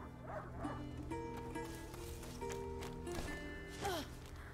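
A hunting dog barks and whimpers at a distance in the video game A Plague Tale: Innocence, a few faint yips over steady ambient music and background tones.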